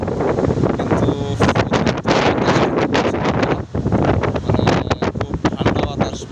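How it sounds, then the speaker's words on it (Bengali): Cold wind gusting outdoors just before rain, buffeting the microphone with a steady loud roar and rustling, continuing throughout with no speech. "খুব ঠান্ডা বাতাস"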